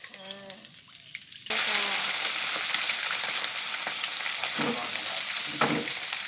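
Korat noodles stir-fried in a pan after about 250 ml of water goes in, a loud steady sizzle rising abruptly and holding, with occasional scraping stirs and faint talk beneath.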